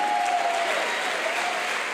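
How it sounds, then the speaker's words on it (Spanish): A church congregation applauding, a dense and even burst of loud clapping from many hands that holds steady for a couple of seconds. "Aplaudí con ganas al Rey"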